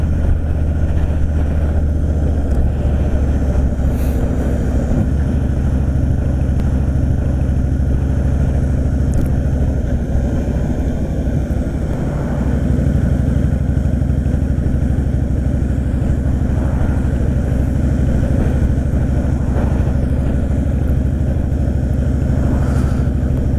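Honda Fury motorcycle engine heard while riding, a loud continuous low rumble holding steady with slight shifts in pitch throughout.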